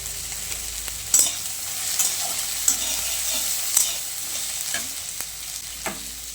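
Chili fries with chopped onion in a pan. A close, steady sizzle is punctuated by periodic scraping clicks as the mix is stirred.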